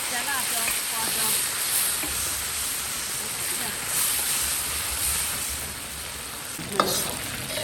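Doubanjiang, chili and Sichuan pepper frying in hot lard, a steady close sizzle with stirring and a brief clatter near the end, cooked outdoors in hot weather for a sour soup hotpot.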